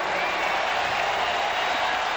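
A football stadium crowd at the 2004 Auburn vs. LSU game roars in a steady, dense wall of cheering and applause.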